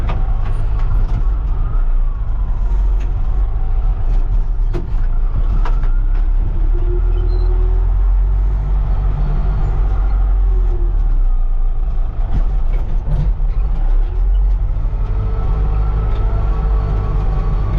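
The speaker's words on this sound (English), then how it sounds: "Truck's running good so far today." A truck engine idles in a steady, loud low rumble, with occasional knocks and clanks over the drone and no voices.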